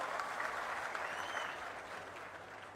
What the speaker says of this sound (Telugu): గట్టిగా చప్పట్లు కొట్టి అందరూ అభినందించాలి.